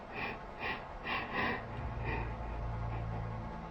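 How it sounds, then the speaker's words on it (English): A man breathes heavily and fearfully while moving around his home, with several distinct breath bursts early on followed by a low, sustained rumble beneath quieter breathing. "You can hear the fear in this man's breathing as he moves around his home."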